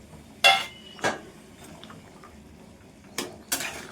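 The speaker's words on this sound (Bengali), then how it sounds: "এবার এই যে মাছগুলো দিয়ে দিচ্ছি।" Fish pieces going into a pot of thin curry broth, giving a few separate splashes and soft clinks spread over a few seconds against quiet background hiss, with no talking.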